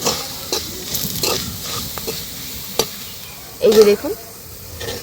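Mango seed kernels cook in oil in a kadai, giving a steady low sizzle with a few stirring scrapes and one louder clattering stir near the end; a voice speaks briefly.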